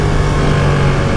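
2020 Ducati Panigale V2 motorcycle engine at the Jerez circuit, a loud, steady close-up drone holding one pitch without clear revving.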